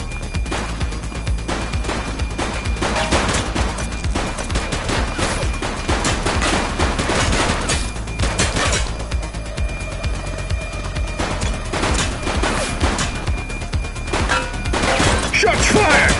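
Heavy, sustained gunfire from multiple weapons in The Precinct police game, dense bursts and rattling volleys running nonstop at close range with crashes and thuds mixed in, and voices shouting over the shooting.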